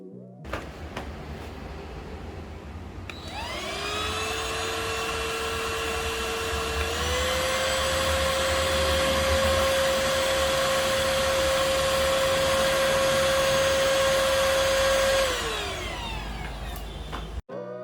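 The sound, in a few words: Perysmith Xtreme XS1 cordless vacuum cleaner running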